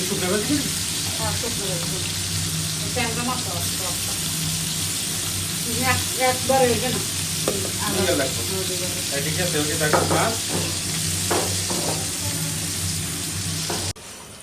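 Onion fries dry in a pan with a loud, steady sizzle and occasional stirring scrapes throughout, while a voice talks over it before the sound drops off abruptly at the end.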